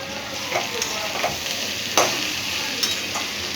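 Chopped cabbage for vegetable chowmein is stir-fried in hot oil, a steady sizzle broken by a few scraping stirs of the spatula, close and fairly loud with no talking.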